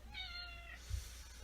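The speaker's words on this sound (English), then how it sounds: "Sorry, that's my cat." A domestic cat gives a single drawn-out meow, fairly faint and indoors, with a soft low thump just after it in a quiet room.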